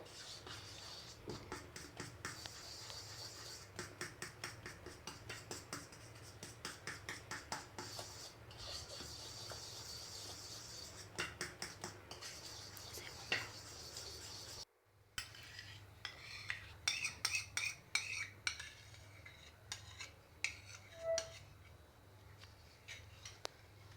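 Eggs beaten in a bowl with a utensil, a steady run of quick rhythmic clinks and scrapes in bursts, close and fairly quiet, with a short gap midway before the whisking resumes.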